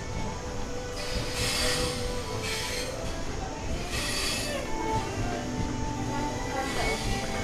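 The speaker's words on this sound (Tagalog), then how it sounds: "Yung lumang tren oh." An old train in China rumbles along its rails with high metallic wheel squeals rising in bursts, over a steady loud roar of motion.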